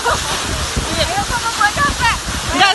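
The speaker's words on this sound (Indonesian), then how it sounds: "Air terjun Ketenong." Ketenong waterfall in Lebong, a loud steady rushing roar close by, with people talking over it throughout.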